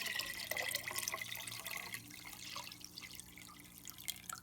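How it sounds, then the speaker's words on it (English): Water pours in a steady splashing stream into a kombucha brew, loud at first and easing slightly toward the end, with no talk. "Now I'm adding the final portion of water."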